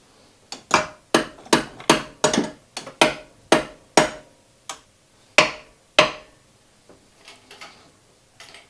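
Hammer blows ring out on a car during removal of a Mazda NA engine still bolted to its mount, about a dozen sharp metallic strikes in an irregular rhythm, close and loud, trailing off into softer taps near the end.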